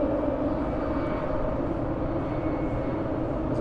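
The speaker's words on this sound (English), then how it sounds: "As a plane flies past overhead." A steady, loud roar of an airplane passing overhead fills the space beneath Lisbon's 25th of April Bridge, a continuous broadband rumble with no talk.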